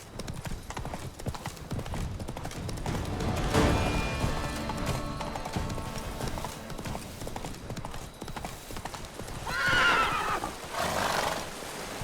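A horse gallops in the fantasy game The Witcher 3: Blood and Wine, with a steady, loud clip-clop of hooves throughout, snorting breaths and a couple of whinnies near the end, and someone speaks briefly over it.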